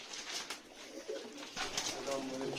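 Soft cooing of pigeons nearby, low repeated coos over a murmuring background with some faint voices.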